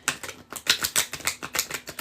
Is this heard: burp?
no